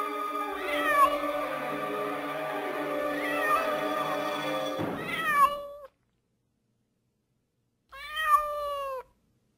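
Several three-month-old kittens meow in overlapping high-pitched cries, a busy chorus that breaks off, then a short burst of meows returns after a pause.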